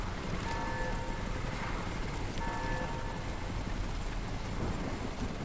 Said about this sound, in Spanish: A ver si puedo cargarme el helicóptero.